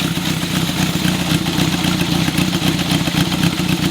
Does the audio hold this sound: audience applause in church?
no